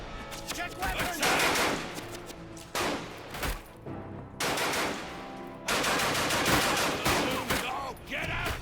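Machine gun fire in the war video game Ad Infinitum, long rapid bursts of automatic shots broken by brief pauses, loud and dense throughout.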